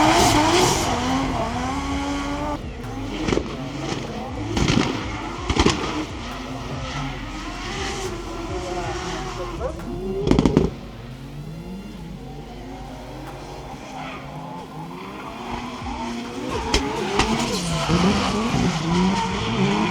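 A Volvo drift car in a drift competition battle screeches through long tire squeals and revving engine surges, with sharp bangs and fluctuating pitch, loud and close, while a voice talks intermittently underneath.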